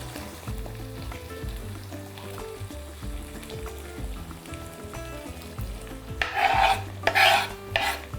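Chopped vegetables tipped onto frying beef and vegetables for a sauce, under a steady low hum with scraping stirs, then a louder burst of sizzling near the end.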